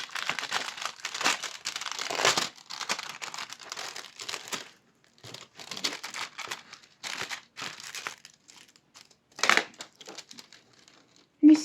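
Crinkling and rustling of plastic and paper packaging being cut and handled during an unboxing, in bursts of crackle with short pauses, fairly close, with people talking at times.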